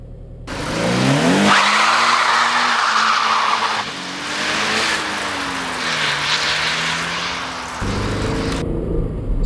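A 2013 Toyota GT86 fires up and pulls away, the loud engine note rising and falling through gear changes as it drives, close and without talk over it.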